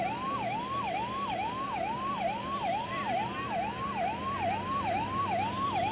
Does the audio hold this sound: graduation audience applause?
no